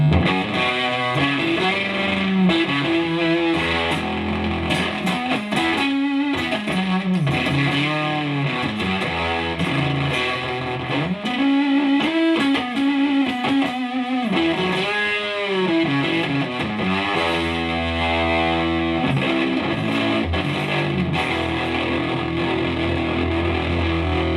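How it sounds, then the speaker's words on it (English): An electric guitar through an Electro-Harmonix Hot Tubes tube overdrive pedal plays a sustained, warm, fuzzy melody with bends and held notes, clear and up front, with no talking. "I really like the sound of this overdrive pedal."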